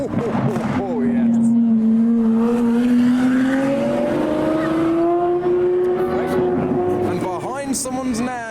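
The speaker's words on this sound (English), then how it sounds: "We've got another Aventador SVJ with an exhaust." A Lamborghini Aventador SVJ with an aftermarket exhaust revving hard and holding a rising, droning exhaust note as it passes close by, with excited voices talking over it.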